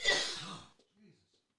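A throat clears harshly and loudly up close, followed by a softer short cough and a faint breath, then quiet.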